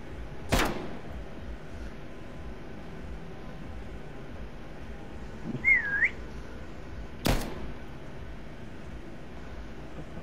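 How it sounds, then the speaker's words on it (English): A short warbling whistle sounds once, rising and falling, during a Call of Duty Black Ops Cold War match. It is faint and brief, set between two sharp, loud bangs over a low ambient hum. "The whistle's getting louder."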